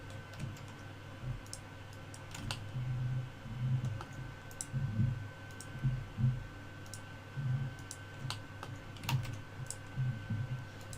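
Computer mouse clicks while working in 3DS Max, a quiet irregular series of small sharp clicks spread over a faint steady room hum, close to the microphone with no voices.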